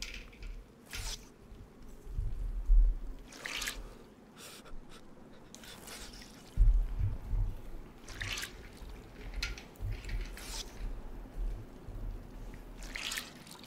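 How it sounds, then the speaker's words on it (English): Wet fabric is squished and wrung out in the video game DayZ, producing several separate squelching bursts with drips and trickles between them, fairly close and quiet, with no speech. "I did some sound for wringing out clothes now."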